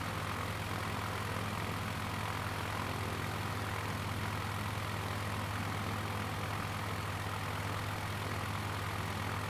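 A propeller aircraft engine in Microsoft Flight Simulator 2024 drones steadily and evenly throughout, a continuous hum with airy broadband noise near the coast at Cape Lookout, with no talking.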